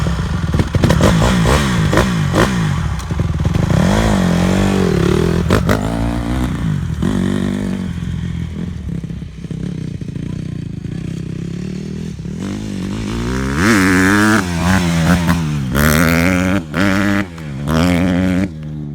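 A brand new 150R dirt bike is ridden and revved up close, its engine rising and falling through loud repeated revs and shifting pitch, with clattering and scraping along the way and a lull before it revs hard again.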